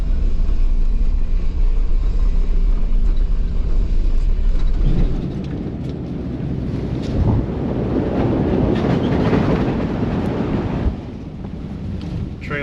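A vehicle towing a trailer up an off-road mountain track, the trailer on tires aired down to about 18 PSI, makes a steady loud rumble with heavy wind buffeting, rougher and more jostled in the second half.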